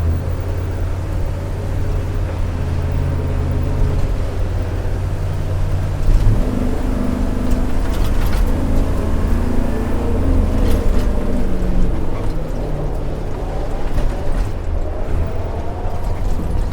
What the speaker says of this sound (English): Somehow, the engine coughed and spit us back to the station.